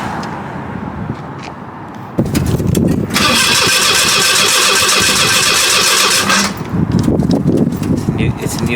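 A 1979 Fox body car engine cranks and turns over, a loud steady churn lasting a few seconds after a quieter stretch of shuffling, with rumbling noise before and after.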